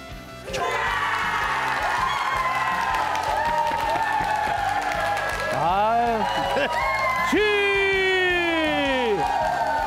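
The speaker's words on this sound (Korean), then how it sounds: "이 박수 소리는 또 이게 멈추질 않아." A studio audience at a Korean news show applauds and cheers loudly and without pause, a dense steady wash of clapping from a crowd, while sweeping whoops and musical tones rise and fall over it.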